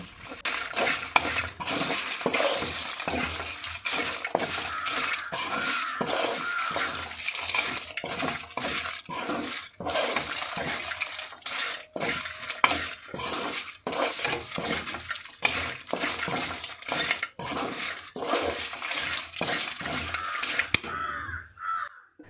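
Crushed fried papadam being mixed into masala in a pan: repeated close scraping and clattering strokes of a spoon against the pan in a steady rhythm over a bubbling sizzle, with no talking.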